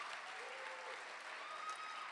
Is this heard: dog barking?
no